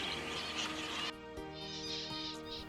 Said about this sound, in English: Zebra finches are flock birds.